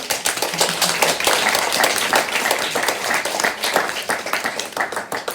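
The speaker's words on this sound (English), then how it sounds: "So just round of applause for yourself, really." An audience at an anthology launch event applauds, a dense wash of clapping from a roomful of people that holds steady before thinning out toward the end.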